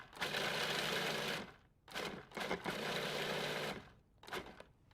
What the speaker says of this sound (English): we've got about a cup of walnuts or pecans. And I'm just going to throw them into the food processor.